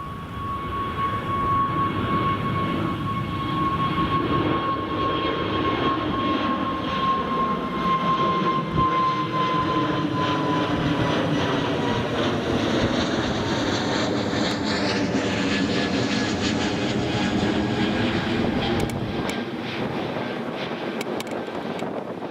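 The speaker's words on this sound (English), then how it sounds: "V2, positive rate. Gear up. There goes the Eurowings back to Dusseldorf." A Eurowings jet airliner departs Newcastle Airport, a steady rising engine roar with a strong whine and shifting tones as it climbs away, sustained throughout with no voices.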